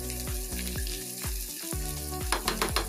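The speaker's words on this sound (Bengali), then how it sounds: "এইগুলো খুব সুন্দর করে ভাজা হয়ে গেল আমার" Eggs frying in a pan for an egg jhalda curry give a steady close sizzle, broken by repeated low thuds and scrapes as the pan is worked, with sharper clinks near the end.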